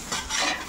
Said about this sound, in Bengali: এই যে আমাদের আলু কষানো হচ্ছে